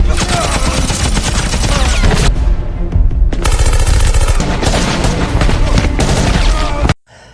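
Film gunfire as a gang shoots at police: dense, loud bursts of automatic fire with heavy impacts and a brief lull, overlaid on a busy soundtrack, ending abruptly.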